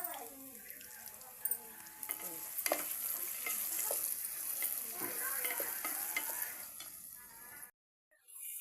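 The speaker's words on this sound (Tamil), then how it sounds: "பாருங்கள், தக்காளி வதங்கிட்டே இருக்குது." Tomato and two green chillies sautéing in a pan for mutton biryani, a close crackling sizzle with repeated scraping stirs and utensil clinks, ending in a brief silence.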